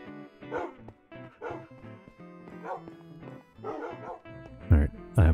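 Dogs or puppies in a Minecraft-style video game barking in short repeated yips and bow-wows, several separate bursts spaced through the stretch, with a loud pair of barks near the end.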